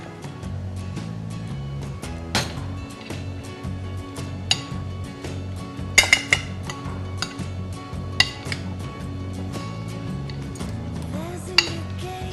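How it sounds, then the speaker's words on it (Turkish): Penne is stirred with pesto sauce in a pan, with repeated metal utensil clinks and scrapes against the cookware over a low, steady tonal background. Louder knocks land irregularly, most sharply around the middle. "Hemen bunu güzelce karıştırayım ben şöyle birazcık"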